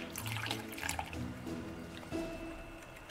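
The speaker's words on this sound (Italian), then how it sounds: "Intanto io comincio a mescolare aggiungendo l'acqua." Water trickles and splashes into a bowl of flour as it is stirred into a batter for frying salt cod, a soft, steady wet pouring and mixing sound close by with no talking.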